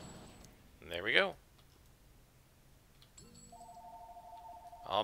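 A telephone rings with an incoming call during a City of Heroes gaming session, two separate bursts of ringing near the start and end with a steady electronic tone between them, faint speech underneath.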